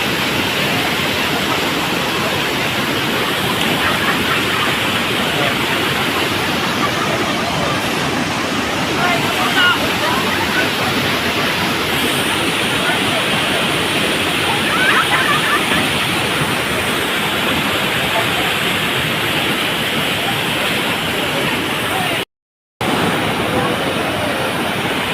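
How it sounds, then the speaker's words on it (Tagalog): Tinago Falls waterfall on Biliran Island, a steady broadband roar of rushing water filling the whole stretch at constant loudness, close and dense, with a brief dropout near the end. "That's the waterfall there, Tinago"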